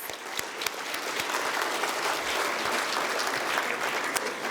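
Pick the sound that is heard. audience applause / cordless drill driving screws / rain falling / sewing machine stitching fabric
audience applause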